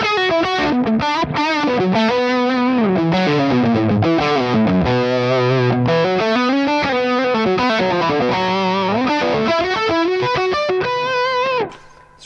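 Distorted electric guitar through a Mesa Boogie Road King amp, a loud, compressed lead line with sliding bends and sustained notes played alone, then cutting off sharply at the end.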